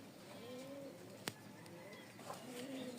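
Rajshahi Giribaz pigeons coo softly in a home loft, with a few low rolling coos spread across the moment, faint and close against quiet background noise and one sharp click.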